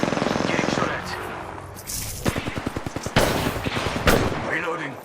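Rapid automatic gunfire rattles in Apex Legends on PS4, several bursts of fast, loud shots with single sharp cracks between them and brief pauses, a player's voice talking over the first part.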